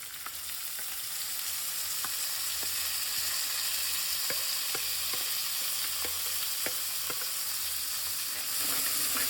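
Chopped green garlic sizzles steadily in a hot frying pan, a continuous hiss with scattered faint clicks of a spoon against the pan, with no voices.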